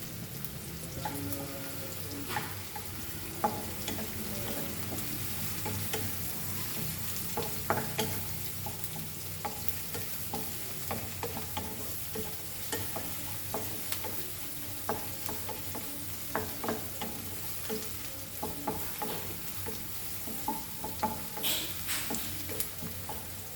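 Curry leaves frying in hot oil for a Goan fish curry, with steady sizzling throughout and frequent scraping stir strokes clattering against the pan, close and continuous, no talking.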